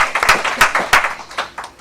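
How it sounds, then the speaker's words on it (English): Brief, loud, uneven clapping from a small group at a welcome gathering in St. Thomas, US Virgin Islands, a quick cluster of claps with no talking over it. "let's give them another big round of applause for their commitment"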